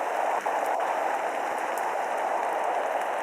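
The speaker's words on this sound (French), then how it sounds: "Ah mince, c'est la pluie acide." Acid rain pours in a video game as a dense, even hiss of rainfall with no break and no voices.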